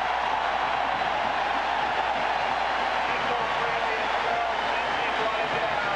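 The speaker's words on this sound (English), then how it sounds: "just listen to this crowd" Dense, steady roar of a large stadium crowd at a 1990 USC at Washington college football game, a continuous far-off wash of noise with no breaks throughout.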